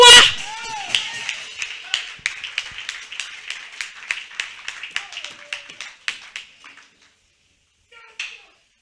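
A church congregation claps in a steady, regular rhythm of distinct beats that slowly fade and stop, followed by one lone clap; a voice is briefly heard at the start.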